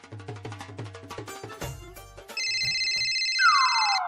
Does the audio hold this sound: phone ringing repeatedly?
yes